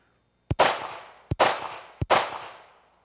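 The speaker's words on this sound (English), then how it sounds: "I come down, I draw, present the pistol, and fire." An Archon pistol is fired one-handed at a shooting range: three loud, close gunshots spaced about three quarters of a second apart, each a sharp crack followed by a short rolling echo.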